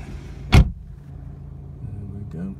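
A keyless-entry car with a manual clutch is started: a sharp, loud burst of cranking is followed by a quieter low idle and a brief rising rev near the end.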